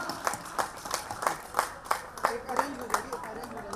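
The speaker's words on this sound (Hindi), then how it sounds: "जोरदार तालियां" Rhythmic unison clapping from a crowd at a school kabaddi tournament, regular beats about three per second with a voice speaking over them.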